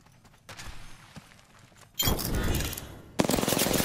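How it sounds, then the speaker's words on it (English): Rapid automatic gunfire in Apex Legends, with bursts of dense, loud shots coming in two heavy stretches after a quieter opening of scattered distant shots. "Shooting at me."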